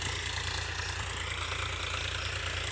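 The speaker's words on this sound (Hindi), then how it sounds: "इधर ही देखिए ट्रैक्टर चल रहा है" A Powertrac Euro 50 tractor engine runs steadily in a field after maize harvest, a continuous low idling rumble with no break, moderately distant and without talk.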